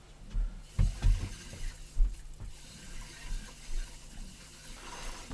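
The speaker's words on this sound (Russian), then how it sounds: "Сейчас хоть вода вообще поступает." Water from a tap fed by a newly installed pump in a village house in freezing winter, switched back on. It sputters out in faint, irregular gushes and splashes that rise and fall.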